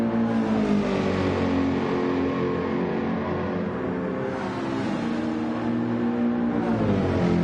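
Race cars in a racing video game approaching the first chicane at Monza, with a sustained loud engine drone whose pitch shifts slightly as the cars brake and accelerate.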